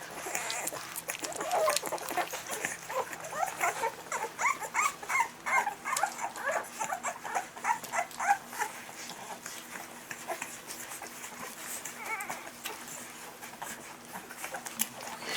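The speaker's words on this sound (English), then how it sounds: "Just a wiggling little bunch of dogs." A litter of Alapaha Bulldog x American Bulldog puppies whimpering and squealing in a steady jumble of small yelps and whines, close by, with faint clucking of chickens in the background.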